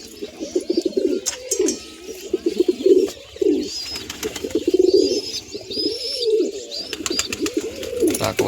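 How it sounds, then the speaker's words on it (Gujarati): Pigeons coo close by as they climb into a box, a steady run of throaty, rolling coos with a few soft chirps and light wing flutters mixed in. "બધા કબૂતર ડબલામાં ચડે છે"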